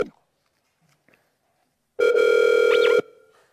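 A telephone ringback tone sounds once as a call is placed, a steady electronic burst lasting about a second after near silence, with faint voices before and after.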